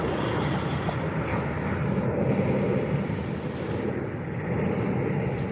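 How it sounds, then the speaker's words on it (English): A JetBlue Airbus A321 airliner rolls down runway 25 Right at LAX, its engines giving a loud, steady broadband roar that holds for the whole stretch with no voices over it. "JetBlue A321."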